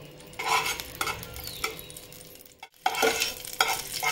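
A spoonful of ghee heating and sizzling in a pan, with steady frying crackle and a few stirring scrapes of a utensil against the pan, fairly close and without talk.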